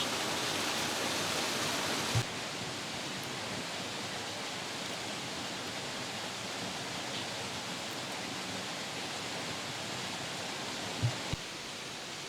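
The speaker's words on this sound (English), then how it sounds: "see the waterfall there on the right" Water from a waterfall behind a monastery rushes in a steady, even hiss at moderate distance, unbroken for the whole stretch, with a couple of faint knocks and no talking.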